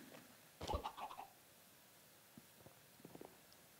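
Chickens in Minecraft cluck and squawk in a short, moderately loud burst, followed by a few fainter scattered clucks from the flock held in a small airlock enclosure.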